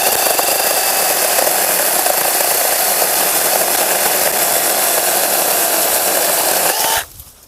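A Procraft PKA44 cordless mini chainsaw runs loud and steady as it cuts through wood, jerking and bouncing, then cuts off abruptly near the end.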